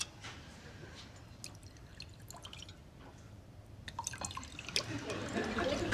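Gin poured into a glass, a faint scatter of drips and trickles that builds into a fuller liquid pour toward the end.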